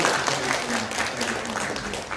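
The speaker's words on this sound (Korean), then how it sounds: "우리 환영의 박수 보내드리겠습니다." A church congregation at a Christmas thanksgiving service claps in welcome, a steady mid-level patter with a low voice murmuring beneath it.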